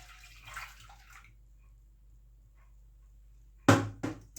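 A powdered-milk and cold-water mixture is poured into a pan, a short close splashy pour with a second brief pour after it, following near silence.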